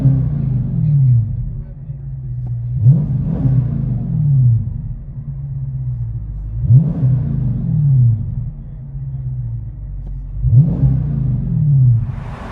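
A 2020 Dodge Challenger 1320 with the 6.4L engine and Flowmaster Super 44 exhaust, heard from inside the cabin, deep rumble rising in three repeated revving surges, loud and close.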